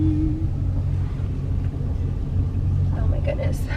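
A 2020 widebody Scat Pack's engine rumbles low and steady as the car pulls into a gravel parking lot, a constant deep drone throughout with a voice speaking over it near the end.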